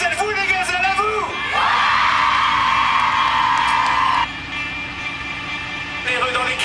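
A crowd cheers and shouts encouragement at the send-off of a women's driving rally, with loud, sustained whoops and calls and a high held tone running through the middle.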